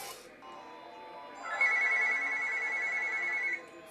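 A telephone rings with a steady electronic trill that starts partway through and holds for about two seconds against a quiet background.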